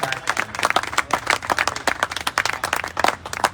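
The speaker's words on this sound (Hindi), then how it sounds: "एक बार जोरदार तालियां पूरा सदन बजाए पंकज" An audience in a hall claps after a poem is recited at a memorial event honouring a fallen army captain. The clapping is loud, brisk and uneven, with distinct claps across the whole clip and no talking.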